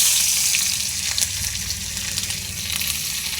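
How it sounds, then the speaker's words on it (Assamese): Peeled ginger and garlic frying in hot oil in a wok: a steady close sizzle with soft crackles and occasional stirring, with no talk over it. "এতিয়া আমি পিচি লোৱা আদা নহৰুখিনি এইখিনি এতিয়া আমি নহৰুখিনি দি দিম।"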